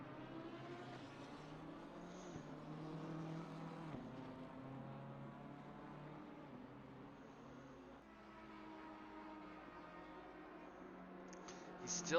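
BMW GT3 race car driving the Kyalami circuit in the racing game Assetto Corsa Competizione, a steady loud engine drone with shifting harmonic whine running continuously throughout, with faint commentary voices beneath.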